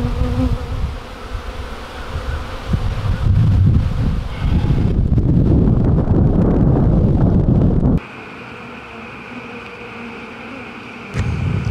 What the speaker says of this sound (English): That's a mess of bees.